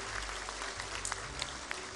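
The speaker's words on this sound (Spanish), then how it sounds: "hay que darles un aplauso" Applause from an audience at a public address, a steady, fairly faint patter of clapping from a crowd heard at some distance throughout.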